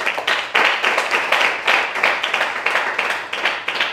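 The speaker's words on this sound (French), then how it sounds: "Ça s'applaudit, s'il vous plaît" Students applaud at a book presentation in Grand Popo, a lively, close round of clapping with a loose rhythmic pulse as many hands beat together in quick repeated bursts.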